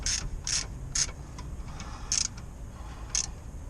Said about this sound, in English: Now just tighten down the pinch bolt on the lower ball joint.